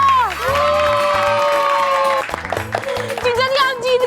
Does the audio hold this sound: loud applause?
yes